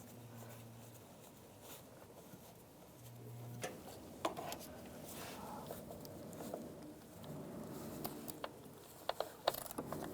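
A hand ratchet tightens bolts during an ignition coil replacement on a 2006–2011 Cadillac DTS, quick clicking pawl strokes in short bursts, close and fairly quiet, with faint metallic knocks between.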